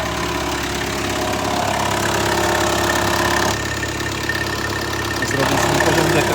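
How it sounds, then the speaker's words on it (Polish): An idling van engine drones steadily with a rattling, buzzing exhaust, continuous and close, with no talking. "Strasznie brzęczy ten wydech."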